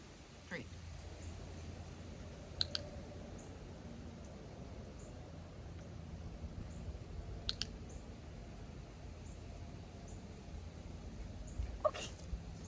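A dog-training clicker gives three faint, sharp single clicks spaced several seconds apart over a quiet indoor background with soft low rumble.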